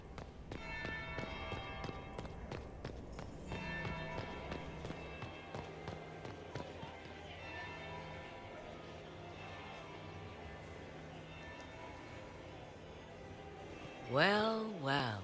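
A church bell in Dragon Age: Inquisition tolls with several spaced, ringing strikes among footsteps and ambient clatter, and a brief voice comes in at the end.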